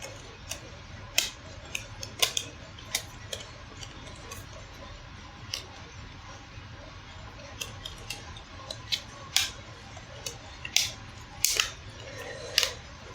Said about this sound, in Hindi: उसके ऊपर बैटरी इंसर्ट कर लेते हैं